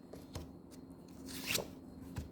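Tarot cards drawn and slid from a deck during a reading, giving soft papery flicks and rustles in short bursts, close by and fairly quiet, with no talking.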